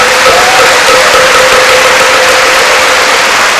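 Applause from a large audience at a Buddhist precepts ceremony in an army training-camp temple, a dense, steady wash of clapping that runs loud and unbroken throughout.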